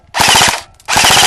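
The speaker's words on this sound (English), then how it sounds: "They got machine guns." Airsoft machine gun fire at an outdoor lakeside game: two rapid bursts of close, loud rattling shots with a short pause between them.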